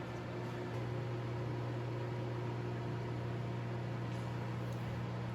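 A microwave oven runs with a cupcake squishy toy inside, giving a steady low electrical hum with a whirring fan and faint hiss, continuous and unchanging throughout at close range.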